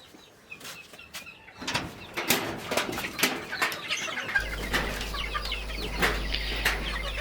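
Chickens clucking in short, irregular bursts, with a few sharper calls and possible wing flaps close by, and a low steady hum coming in partway through.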